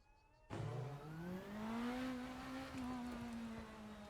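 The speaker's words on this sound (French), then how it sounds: "On allume le moteur, démarrage." A race car engine in the RaceRoom racing game cranks and fires up, then settles into a loud, steady idle that rises slightly as it warms, heard alone and close.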